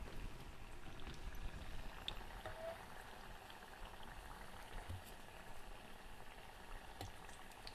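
Leaf fritters (bhaji) frying in hot oil give off a faint, steady bubbling sizzle with fine crackles that runs unbroken throughout, close by and without talk.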